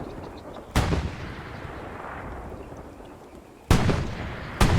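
Tank cannon fire in the Hell Let Loose World War II video game: a heavy boom at the start, then a long rumbling tail, followed by two more sharp blasts near the end.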